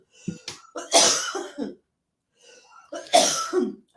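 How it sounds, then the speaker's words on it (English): A person coughs hard near the microphone in two separate bursts with a short quiet gap between them, and throat clearing mixes into both bursts. "I'm not coughing in the microphone."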